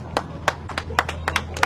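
A small group claps at a ceremony for a newly renovated kindergarten, giving a handful of sharp, separate hand claps at an uneven pace, close by and not blended into full applause.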